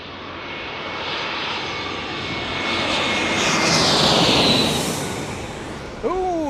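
A JetBlue jet airliner passes over San Diego Bay, its engine roar swelling to a loud peak midway and then easing off. Brief chirping sounds come in at the end.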